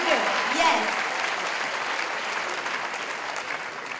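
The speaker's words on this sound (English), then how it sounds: "Can I have a round of applause for Marco?" Audience applause at a live stand-up comedy show in London: steady, dense clapping from a full room that holds evenly for the whole stretch, with no voices over it.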